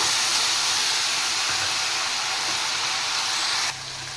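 Whole dried chillies, bay leaves and whole garam masala spices fry in hot oil with a loud, steady hissing sizzle that drops slightly softer just before the end.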